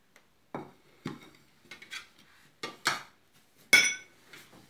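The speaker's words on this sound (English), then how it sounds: "Stir it like this." Beef pieces with onion in a marinade for lok lak are stirred in a bowl, giving a series of sparse, close clinks and scrapes of utensil against the dish, spaced irregularly with quiet gaps between.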